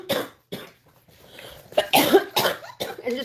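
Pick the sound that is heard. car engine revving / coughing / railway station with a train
coughing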